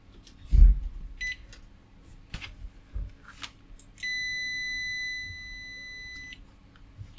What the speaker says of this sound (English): the thing I always want to try first, continuity diode mode bleeper